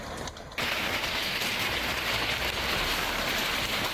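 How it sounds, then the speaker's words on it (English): A violent early-morning hailstorm in Central Missouri, heard as a dense, steady roar of hail pelting surfaces close by, starting abruptly after a brief quieter moment and continuing unbroken at high loudness. "Central Missouri is shaken early in the morning by a violent hailstorm"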